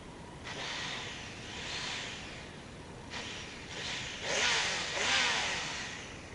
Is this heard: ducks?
no